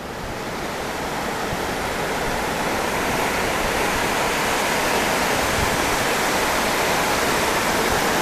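Sea waves wash continuously over a shoreline where shellfish are gathered, a loud, steady broadband roar of surf that never lets up, with no voices.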